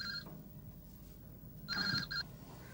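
Two bursts of a telephone bell ringing indoors in a Hindi TV drama scene, a short ring at the start and a double ring near the end, with a quiet room tone in between.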